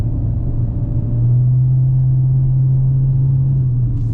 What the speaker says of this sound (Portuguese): Vou acelerar um pouquinho mais forte, escutem,